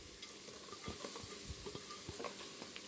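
Onion sautés with bay leaves in a pan for a creamy bacalhau dish, a faint steady sizzle broken by several soft stirring knocks and scrapes, with no talking.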